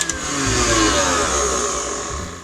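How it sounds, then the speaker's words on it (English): Electric mixer on high speed whisking egg whites toward stiff peaks, a continuous close whirring motor hum lasting a couple of seconds with no talk. "Set your mixer to high and whisk until they have stiff peaks."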